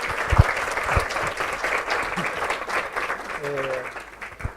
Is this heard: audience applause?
yes